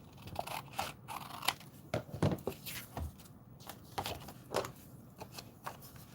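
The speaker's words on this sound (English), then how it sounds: "I'm just gonna cut this like this." Scissors snip through paper for a stamping craft project, a series of crisp, close cuts in an irregular rhythm with quiet pauses between them.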